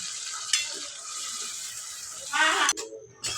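A spoon mixes mung bean usal in a pan with roasted onion and garlic over a steady nearby sizzle, and a louder scraping stir swells near the end before a short pause.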